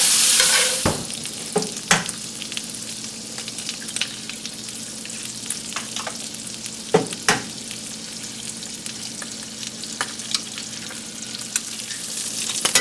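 Cheap bacon fries in a pan with a bright, steady sizzle and crackle, broken by several clanking stirs and scrapes of a utensil, close and without speech.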